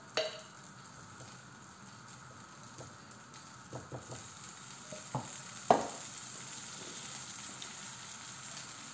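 Makki mooli paratha cooking on an oiled griddle, giving a faint continuous sizzle with a few scattered clinks and scrapes, one sharper knock near the middle, and no talk.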